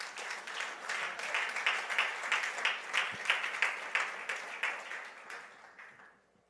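Church congregation applauding, a steady wash of many hands clapping together with rhythmic pulses, sustained for several seconds before fading out at the end.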